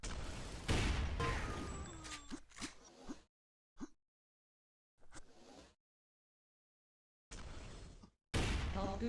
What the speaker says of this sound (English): he's fighting machine gun versus rifle long range, a fight that he wisely abandons